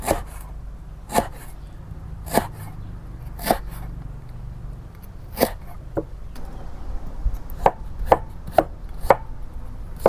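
Knife chopping ingredients on a board for Khmer sour pork soup, about a dozen sharp, evenly spaced chops, some closer together near the end, close and distinct over a low background hum.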